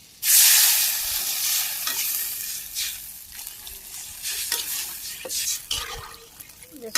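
Water is poured onto potatoes frying in a pan for a Bangladeshi village-style rui fish curry, setting off a loud sudden sizzle that settles into a steady hiss, broken by occasional stirring scrapes and bubbling.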